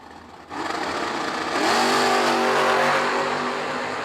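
Drag racing at an old-school bracket race, a Camaro and a Chevy II revving loudly and accelerating off the line, steady engine roar building after a brief quieter start and holding strong with no talk.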